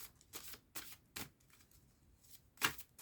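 Oracle cards shuffled and drawn by hand, several quick soft riffling bursts spaced apart with a sharper snap near the end, close and quiet with no talk.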